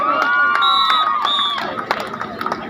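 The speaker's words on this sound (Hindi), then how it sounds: "ताली बजा दो भाई दोस्तों, ताली बजा दो दोस्तों" Spectators at a village kabaddi final in Ghoghadiya clap and cheer under a loud voice on a PA system, the applause breaking into scattered, uneven claps toward the end.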